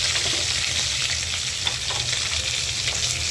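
Potatoes fry in a pan with a steady, close sizzle and crackle that holds even and unbroken throughout, with no voices.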